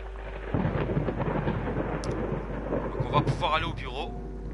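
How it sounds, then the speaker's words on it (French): Rain patters against windows in Layers of Fear beneath a heavy rolling rumble of thunder, with a steady low drone. A person talks over the storm toward the end. "la pluie elle laisse un peu à désirer quand même sur les vitres"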